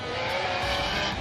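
Drift car tires skidding and screeching loudly through a competitive drifting run at a pro drift event, steady near tire squeal layered with engine roar, no talk.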